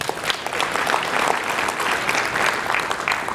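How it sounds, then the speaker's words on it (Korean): Steady applause from a large audience filling a convention hall during a lecture, dense continuous clapping without pause, loud and close, with no talk over it. "인정하시면 박수 치십시오."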